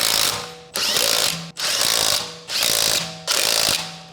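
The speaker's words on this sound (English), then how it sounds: "Use a 17mm socket to secure the rear lug nuts." Ratchet socket wrench with a 17mm socket tightening the rear lug nuts on a Honda Civic DX, EX or LX coupe with the 1.8L engine, four loud, close, continuous ratcheting bursts separated by brief gaps, no talking.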